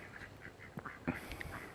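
Homestead ducks coming up from a farm dam give several soft, scattered quacks, faint and somewhat distant, over quiet outdoor background noise.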